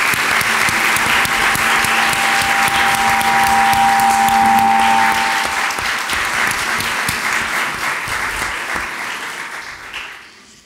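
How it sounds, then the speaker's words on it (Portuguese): Audience applauds the filmmakers with a loud, full round of clapping that holds steady for several seconds, then tapers off and dies away near the end, with a faint tone under the first half. "eu pedia à Joana e à sua colega uma grande salva de palmas pela realização do filme"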